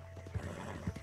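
A horse in the video game Red Dead Online whinnies quietly in two brief snorting bursts, about half a second apart, over a low background hum.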